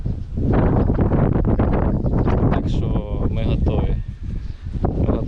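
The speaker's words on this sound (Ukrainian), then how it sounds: "Зранку пасмурно було, зараз вітер." Strong wind buffets the microphone in loud, rumbling gusts, with brief faint rustling and quieter moments between blasts.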